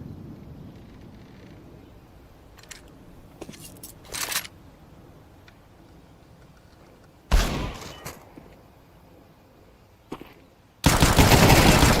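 Gunfire in a Counter-Strike 2 pro match with pistols: a few short sharp bursts spaced through a quiet stretch, then a loud sustained blast of firing at the end.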